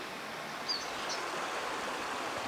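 A small river flowing past the abandoned village of Kakvinskie Pechi on the Kakva river, a steady, soft rushing wash heard close by, with a faint bird chirp near the start.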